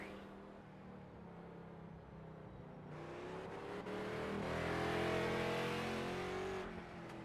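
A race car circles a figure 8 track on a lap, its engine heard faint and distant, revving and swelling louder as it draws nearer around the middle, then easing off again.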